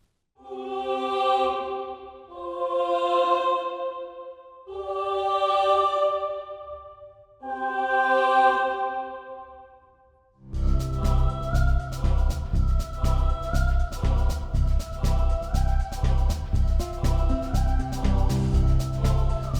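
Dark medium-length orchestral swells from the Spitfire Audio Contrast library: four slow, separate rising-and-falling tones that then give way to a dense, loud, sustained texture with a pulsing rhythm, heard alone.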